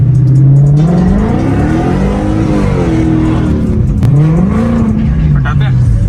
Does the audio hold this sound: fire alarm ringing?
no